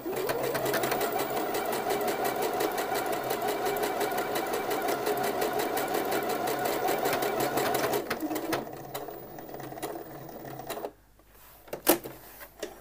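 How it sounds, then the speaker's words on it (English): Sewing machine stitching a test buttonhole on shirt fabric, a close, steady rapid needle clatter for several seconds that then slows and stops, followed by a few clicks. "And we'll just test the buttonhole on there."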